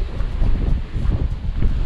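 Loud, rumbling gusts of strong wind on a rainy winter coast buffeting the microphone, a heavy low roar that surges and dips without a break.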